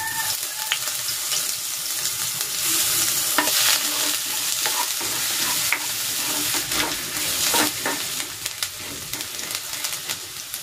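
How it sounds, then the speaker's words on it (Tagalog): Garlic and a little ginger sautéing in hot oil in a pan, a continuous sizzle with stirring scrapes and clinks of a utensil rising and falling throughout. "magigisa na ako ng bawang at ng konting luya"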